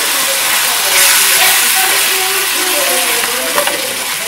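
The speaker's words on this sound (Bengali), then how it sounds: "ভালো করে এই মশলাটাকে ভেজে আমি এখন টমেটো পিউরি দিয়ে দিচ্ছি" Blended tomato puree hits hot frying masala for a kidney bean curry, setting off a loud, steady sizzle and hiss that fills the whole stretch, with faint stirring underneath.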